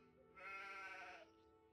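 A sheep in the video game Gothic II lets out a single drawn-out bleat of about a second, close and clear over a quiet game background, with no talking.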